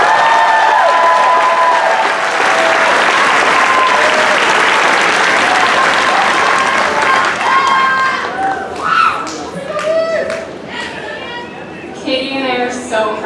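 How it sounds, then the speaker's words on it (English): A graduation audience gives a long burst of loud, dense clapping and cheering, which thins out toward the end into scattered claps and crowd chatter. "So please give a huge round of applause to our amazing counselors, Katie Amos and Sonia Barker."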